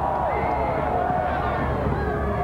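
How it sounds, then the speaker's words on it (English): A rugby league crowd at a 1996 Kiwis versus Papua New Guinea test in Rotorua roars in appeal for a penalty, a broad steady hubbub of many voices throughout, with a commentator talking over it. "the crowd appealing for a penalty there as Ridge hit the deck"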